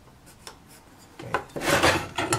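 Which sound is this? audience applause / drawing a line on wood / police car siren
drawing a line on wood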